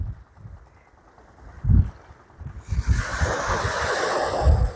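Sea waves wash in at Lalganj beach in Bakkhali, a low rolling surge with soft thumps as water breaks near the shore, then a steady broad wash of foam and wind rushing in closer.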